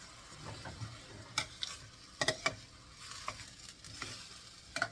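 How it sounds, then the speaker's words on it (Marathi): Masala and soaked rice being gently stirred in a pan for paneer peas pulao: scattered clicks and scrapes of a spoon against the pan over a faint, quiet sizzle. "आणि थोडंसं स्टर करून घ्यायचं, जेणेकरून सगळा मसाला त्याच्यामध्ये मिक्स होणार."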